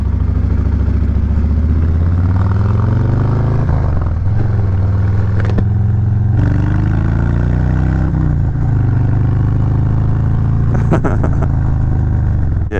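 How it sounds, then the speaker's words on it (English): Harley-Davidson Road Glide with a 2-in-1 exhaust rumbling steadily and loud throughout a test ride, its deep V-twin tone rising and falling through several revs and shifts, with wind noise along the way. "This road glide sounds good. It got a 2-in-1 exhaust"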